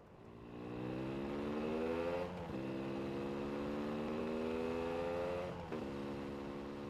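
Motorcycle engine in an anime scene with a teenage rider, a steady droning hum that holds close and loud, with two brief dips where the pitch drops and climbs again like gear shifts.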